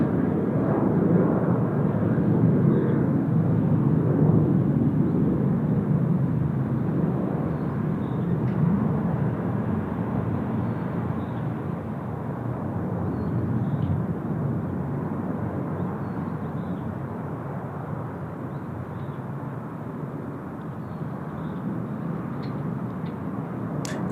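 Delta airliner coming in to land at Seoul Incheon Airport, a steady broad jet roar filling the whole stretch, loud and sustained without breaks, slowly swelling and easing as it passes.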